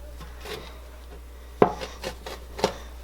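A knife cutting soft cinnamon roll dough on a board for pull-apart bread, with a few quiet, scattered taps and scrapes, one sharper knock midway.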